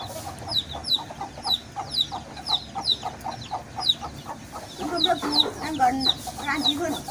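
A mother hen with small chicks on a Javanese farm clucks in a steady run of short, close calls, growing busier and louder toward the end, with faint voices in the background.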